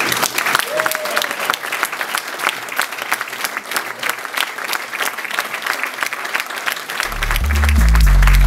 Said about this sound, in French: que je vous demande d'applaudir ici